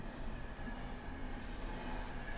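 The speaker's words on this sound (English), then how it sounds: "Can even hear the passing train." A train rolls past in a video game as a steady, broad rumbling wash, continuous and fairly faint, with no voices over it.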